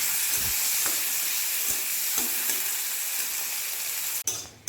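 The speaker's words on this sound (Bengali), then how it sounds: "এবার কয়েকটা চিংড়ি মাছ তেলের মধ্যে দিয়ে দিচ্ছি" Shrimp coated in salt and turmeric frying in mustard oil in a wok, a close, continuous hiss and sizzle with occasional clinks of stirring, ending abruptly.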